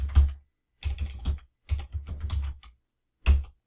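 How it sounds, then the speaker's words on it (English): Short bursts of computer keyboard typing sound close and crisp, with clusters of quick keystrokes separated by brief silences and a single firm tap near the end. "I type in the word prop tab tab."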